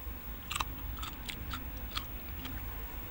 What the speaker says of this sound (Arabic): اللفته دي وتسمعوا صوت القرمشه